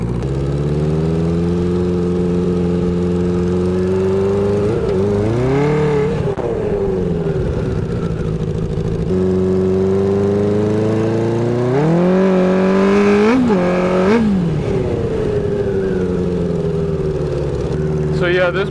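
A rebuilt 1980 Honda CB900C motorcycle engine runs close by, settling into a smooth idle with several brief throttle blips rising and falling in pitch.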